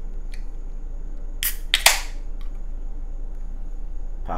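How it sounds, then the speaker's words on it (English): A bottle of wheat ale being opened, with a sharp cap pop and a brief hiss and rattle, close up against quiet room hiss. "Let's crack this open,"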